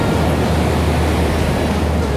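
Ocean surf on a beach where lures are cast, with a loud continuous wash of breaking and receding waves and a rumbling roar up close.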